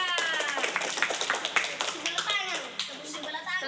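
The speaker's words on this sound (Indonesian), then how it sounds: "tepuk tangan untuk Dirga." Children and a teacher in a classroom clap together in a quick, ragged burst of handclaps, fairly close, while voices talk over and after the clapping.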